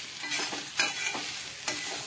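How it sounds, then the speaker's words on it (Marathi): A spatula repeatedly scrapes and turns sabudana khichdi in a pan over full heat, giving rhythmic close stirring strokes with two sharper scrapes over a soft frying hiss, with no talking. "गॅस फुल सोडण्याच्या सारखे उलटाने सतत हलवत राहायचे, म्हणजे करपतपणा पण होत नाही आणि करपत नाही"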